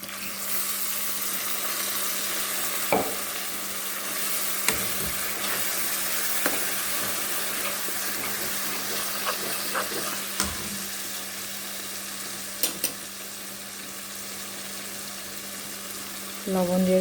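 Water poured into a hot pan of frying cashew-almond masala for homemade biryani, producing a steady close sizzle and bubbling with a few sharp clinks of utensils against the pan.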